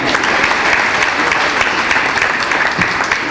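A room of attendees at a book signing for a novel applauds the author, Madame Fouchard, with dense, continuous clapping that holds steady throughout at moderate loudness.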